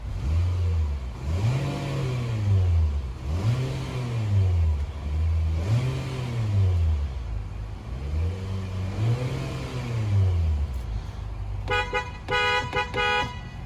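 A 2020 Nissan Altima SR engine revs repeatedly in rising and falling sweeps, loud and close, about five rev cycles, followed near the end by a bright horn honk.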